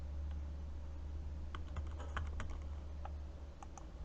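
Soft keystrokes on a computer keyboard as a password is entered, a short irregular burst of clicks over a quiet room hum, with no talk.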